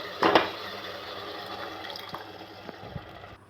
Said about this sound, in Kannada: ಬೇಯಿಸಿದ ಬೇಳೆ ಹಾಕ್ಕೊಂಡು ನೀರು ಹಾಕ್ಕೊಂಡು